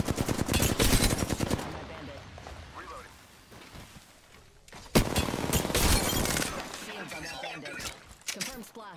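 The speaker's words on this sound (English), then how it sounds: "Nine shots fired and they're hitting me" Gunfire rattles in the video game Apex Legends: a loud, rapid burst of automatic shots, a lull of scattered softer noise, then a second sustained volley with a few trailing shots near the end.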